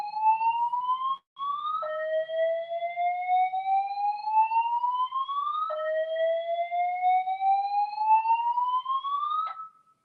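A building alarm wails in long rising sweeps that repeat about every four seconds, loud and continuous with one brief break near the start; no announcement voice is heard over it.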